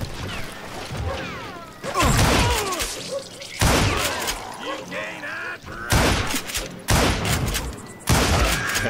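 Repeated gunfire from the Western shooter Call of Juarez Gunslinger, loud sharp bursts at roughly one to two second intervals, with someone talking between the shots.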